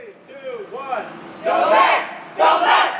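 A team cheer sound effect from the YouTube Create app library: a stylized group of voices shouting in a rising cheer, swelling in two loud bursts after a quieter vocal lead-in.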